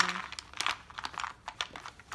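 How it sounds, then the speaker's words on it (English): Keys clicking and clacking as a SteelSeries keyboard is handled while being customized, with scattered short taps in irregular bursts, close and fairly quiet. "Me customizing my SteelSeries keyboard."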